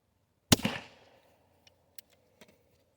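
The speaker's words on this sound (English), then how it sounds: "Some point blank shots." .22 LR rounds fired point blank into a roughly foot-sized block outdoors: one loud sharp crack with a short decaying tail, followed by a few faint distant pops and clicks.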